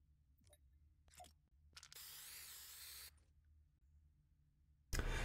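A spray can hisses in Fortnite as graffiti goes over a poster, one sustained burst of about a second amid quiet game ambience and faint clicks, followed by a loud sudden noise at the end.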